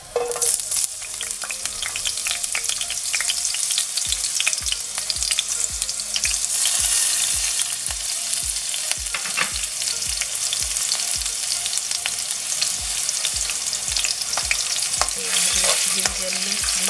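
Garlic, green chili and dry fenugreek leaves fry over high heat in a pan for fish, giving a steady loud sizzle with repeated scraping stirs, no voices.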